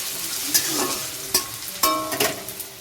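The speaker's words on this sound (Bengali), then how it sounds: "চলো আলুটা ভালো করে ভেজে নিয়ে" Potatoes fry in oil in a pan with a steady close sizzle, broken by a few scraping stirs of a spatula and brief bursts of louder crackling, with no talking.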